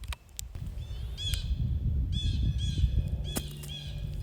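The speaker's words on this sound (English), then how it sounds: "And then of course we have birds" Birds call in a snowy forest with a few harsh, crow-like caws and brief chirps, repeated in bursts over a steady low rumble of footsteps and wind.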